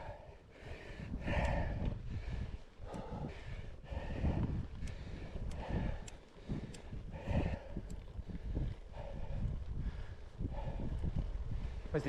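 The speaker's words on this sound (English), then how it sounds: "Starting to get a little bit of a headwind from the north" Steady wind roaring across the microphone of a gravel bike climbing a steep road in the Scottish Highlands, a headwind from the north, gusting in loud pulses throughout with no talk.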